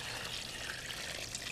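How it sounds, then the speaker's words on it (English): Four cups of water pour steadily into an Instant Pot holding soaked pinto beans and chicken broth, giving a continuous close splashing rush with no pauses. "I'm going to pour in 4 cups of water."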